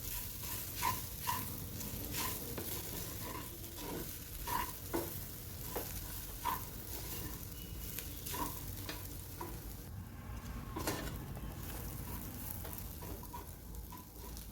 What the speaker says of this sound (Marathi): आता याला छान असं परतून घ्यायचं आहे.